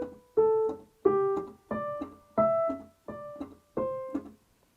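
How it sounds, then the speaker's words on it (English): A beginner piano sight-reading extract is played with ordinary articulation, about eight clearly separated notes and chords struck at an even, moderate pace, each decaying before the next, heard solo and near. "So if I play it normal, it sounds like this."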